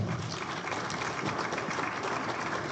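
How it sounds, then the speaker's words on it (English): An audience at a Waynoka FFA and 4-H trophy auction applauds the clerks, giving a steady, dense wash of clapping that holds evenly throughout with no speech. "give those clerks a big round of applause"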